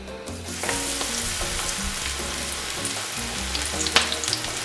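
Vegetable pakora batter with onion dropped into hot oil, frying with a steady, close, broadband sizzle and crackle throughout and one sharper pop near the end; no voices.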